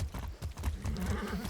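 Hooves clip-clop from a horse in a video game, with uneven thuds over a busy mix of game ambience that grows denser toward the end.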